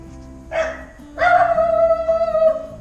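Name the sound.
dog howling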